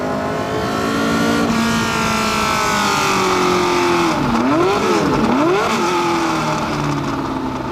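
A 1969 McLaren M9A race car with a Cosworth engine roars loudly at close range, its engine pitch sweeping up and down through gear changes and rapid throttle blips, with no talk over it.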